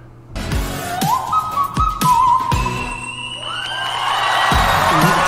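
A singer holds a piercing, very high whistle-register note that rises and wavers over loud music at a concert performance, with a crowd cheering and whooping underneath.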